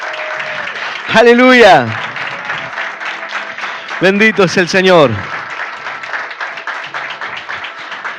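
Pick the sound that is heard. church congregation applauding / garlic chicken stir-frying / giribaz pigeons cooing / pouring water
church congregation applauding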